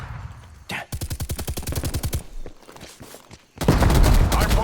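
Rapid assault rifle bursts in a multiplayer video game hardpoint match, a loud regular stream of shots lasting over a second, followed by a heavier blast of noise and gunfire near the end.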